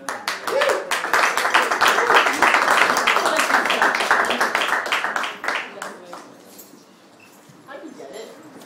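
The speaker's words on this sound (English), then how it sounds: "Round of applause for Justine Walsh, everybody" A small open-studio audience claps for a performer, a brisk burst of individual hand claps that thins and fades after a few seconds, leaving scattered claps and quiet room noise.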